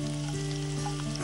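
Chopped onion and capsicum frying in a pan on a kitchen stove, giving a steady, close sizzle with a constant hiss and a low hum behind it, and no voices.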